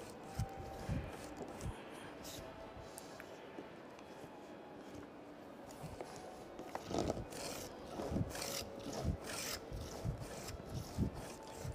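Japanese hand plane with a rounded, R-shaped blade shaving wood for kumiko lattice: repeated dry rasping strokes, close and moderately loud, building in rhythm toward the end, with no talk.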